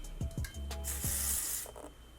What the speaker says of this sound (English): I'm going to spray it with this just to test the color of it